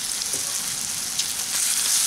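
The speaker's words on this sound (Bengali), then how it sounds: "দুই সাইডই ডিপ বাদামি করে এগুলোকে ভেজে নেব।" Chana dal fritters frying in hot oil, a steady close sizzling hiss with small crackles throughout and no talking.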